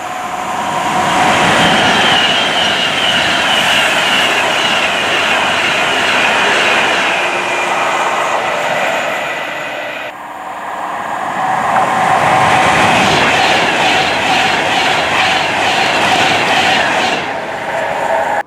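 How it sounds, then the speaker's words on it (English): A London Euston to Liverpool passenger train rushes through Rugeley Trent Valley station, a loud sustained roar with rail rumble and rhythmic wheel clatter that briefly dips mid-pass before surging again as carriages keep streaming by. "we are waiting for the first passenger train to pass through Rugeley Trent Valley Railway Station, which is the London Euston to Liverpool Light Street service"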